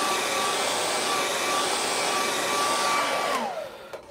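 A hair dryer blasts a steady, loud, close whoosh with a faint whine over a layer of acrylic paint on a waterfall landscape, then switches off and winds down near the end.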